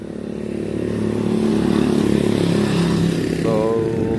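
A motorcycle engine rumbles close by at a campsite, a steady loud drone that swells slightly in the middle and settles into an idle, with a faint tonal whine near the end.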